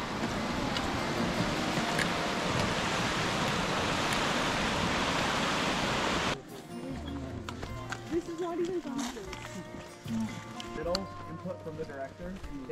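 Small forest streams on a Himalayan trek rush as a steady broadband wash for several seconds, then cut off abruptly to quieter, scattered outdoor sounds.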